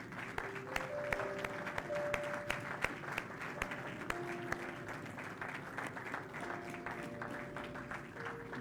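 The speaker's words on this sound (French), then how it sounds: "Est-ce qu'on peut acclamer de nouveau le Seigneur?" A church congregation applauds in praise during a French-language service, producing sustained, dense clapping that stays steady throughout, with faint tonal music lines underneath.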